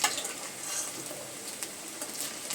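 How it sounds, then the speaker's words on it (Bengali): Prawn fritters, chingri macher bora, crackle and sizzle in hot oil in a frying pan, a steady close hiss punctuated by small pops and stirring taps. "এই যে ভাজা হয়ে গেছে আমি এক করে তুলছি"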